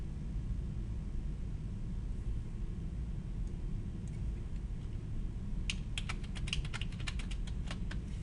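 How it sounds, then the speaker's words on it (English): Someone types a file name on a computer keyboard, a short run of quick, faint key clicks over steady low background hum near the end. "You'll type that file name in the first dialog box."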